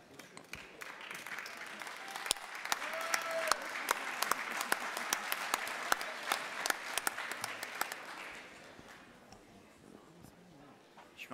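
A congress hall audience at a union gathering breaks into loud, sustained clapping that builds, holds steady for several seconds, then thins out toward the end, with brief voices mixed in.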